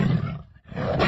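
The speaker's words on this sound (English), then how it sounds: "tiger," A tiger roars twice, loud and close, each deep growling burst separated by a brief breath-like pause, standing alone without any talk.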